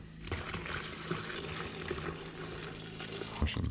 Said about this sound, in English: So that's boiling water.